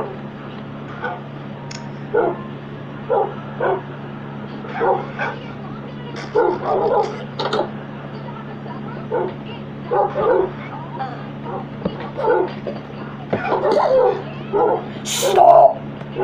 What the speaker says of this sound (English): You stupid dog, hell dog!